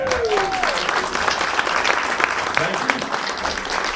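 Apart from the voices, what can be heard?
audience applause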